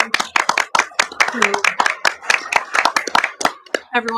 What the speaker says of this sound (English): I'll just give a round of applause to everyone